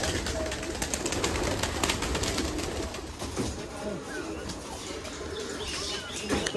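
Pigeons at a Bangladeshi pigeon loft coo and flutter their wings during morning feeding, soft calls and flapping bursts over a steady outdoor background.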